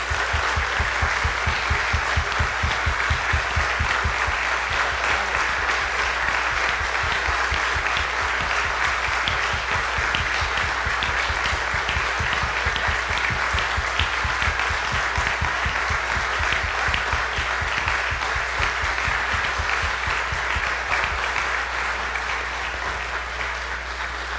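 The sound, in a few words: applause for a priest at mass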